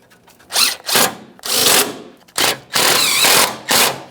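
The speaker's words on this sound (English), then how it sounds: "we're really only focusing on the first 3 mounting bolts" Power tool driving battery tray mounting bolts on a 2009-2014 Nissan Maxima 3.5L V6, five loud close bursts of whirring in uneven succession, each under a second long.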